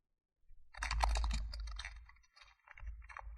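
Keystrokes on a computer keyboard while entering a CSS variable name in VS Code, a quick burst of clicks and taps close to the mic, pausing briefly before a few more presses.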